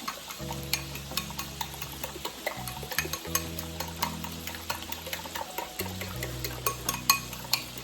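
A fork whisks egg with shredded mozzarella in a bowl for chaffles, with quick, rhythmic clicking and scraping strokes over soft background music.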